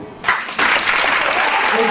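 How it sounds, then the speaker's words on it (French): A convention crowd bursts into loud, dense applause for a Sailor Moon cosplay group, starting with a few claps and then swelling into full clapping from many people. "on peut encore applaudir le groupe."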